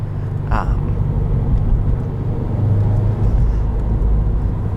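A 2019 Subaru WRX with its boxer four-cylinder engine, a steady low rumble of the engine heard from inside the car while driving, with a brief higher whine early on.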